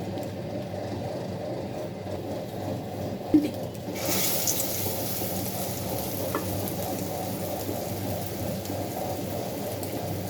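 Medu vada frying in hot oil makes a steady, close sizzle. The hiss grows louder and brighter partway through, likely as fresh batter drops into the pan, and then stays continuous.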